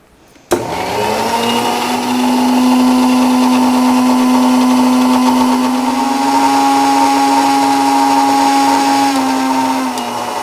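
Mixie grinder whirring loudly as it blends a neem oil spray solution for terrace gardening, starting abruptly with a click and running as a steady high motor whine throughout, no talk.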